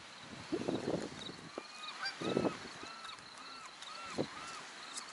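Geese honk in several harsh bursts, some clustered close together, others trailing off farther away, over a quiet outdoor background.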